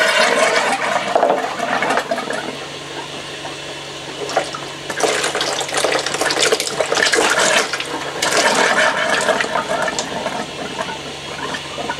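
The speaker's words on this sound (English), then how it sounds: "Now, as you can see, my jug is filling up." Water running from a tap outlet into a jug in a static caravan or holiday home setting, a continuous splashing rush with surges and gurgles, then a louder pour into a basin, close, with no speech.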